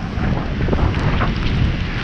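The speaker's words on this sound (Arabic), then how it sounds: "كاين الريح بزاف" Strong wind roars at the seashore near the Hassan II Mosque on a rainy day with dangerous waves, a loud, continuous buffeting rush battering the microphone with no voices heard.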